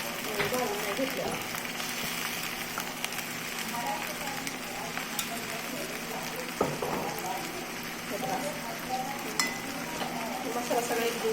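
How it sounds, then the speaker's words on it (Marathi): Ridge gourd and chana dal curry is stir-fried with a raw ground paste of ginger, garlic and coconut, sizzling steadily with occasional utensil scrapes while someone talks over it. "परतूया आपण थोडंसं असं"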